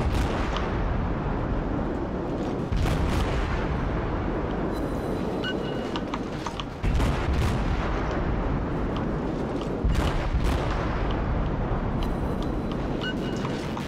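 Warship main battery guns in World of Warships fire repeatedly over a continuous heavy roaring din, deep booms recurring every few seconds without any talking.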